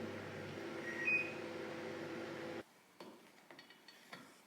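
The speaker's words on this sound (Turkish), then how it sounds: "bir daha mikrodalgaya atacağım ya şaka gibi" A home microwave oven hums steadily for a few seconds with a brief beep partway through, then stops abruptly, leaving quiet clicks and handling noises.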